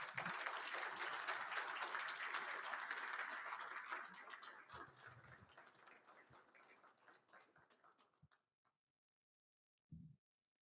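Applause fills a hall at a Marine Corps wounded warrior leadership awards ceremony, a dense round of clapping that gradually fades out over several seconds before a brief spoken word.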